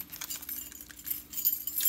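A bunch of keys jangles and clinks continuously at close range, with bright metallic rattles rising and falling over a faint low hum.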